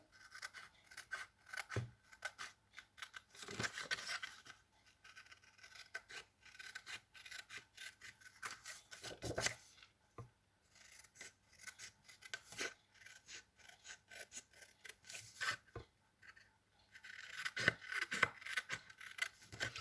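Card being cut by hand along a template line for a pocket card, giving quiet, intermittent rasping snips and scraping strokes with small pauses between them and no talk.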